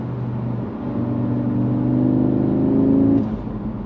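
2022 Audi S3 accelerating on a Colorado mountain road, heard from inside the car: a steady engine hum rising in pitch and building in loudness, then easing off near the end.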